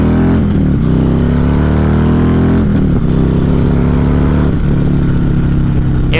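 A Harley-Davidson Street Glide motorcycle engine runs loud and close, revving up repeatedly in rising sweeps with a deep throbbing idle between pulls.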